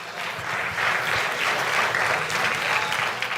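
Church congregation applauding after a sermon, a full, sustained round of many hands clapping that stays loud and even for several seconds, with no voices over it.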